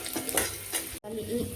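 Garlic sizzles in hot oil in a pan, a close steady crackle with a couple of stirring scrapes, a brief break, then the frying resumes.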